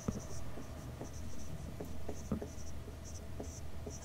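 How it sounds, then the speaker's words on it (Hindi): Writing on a board during a maths lesson produces soft, intermittent scratching strokes and light taps, quiet and close over a low background hum, with faint high chirping in places. "तो हम लिखेंगे"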